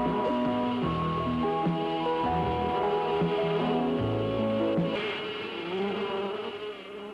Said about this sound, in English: Master Reynolds, Master Reynolds, the bees, the bees are in the garden.